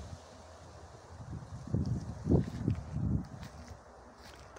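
Gusty outdoor wind buffets the microphone beside a lavender flower bed in a garden in August, a few low rumbling bursts swelling and fading over several seconds with no talking.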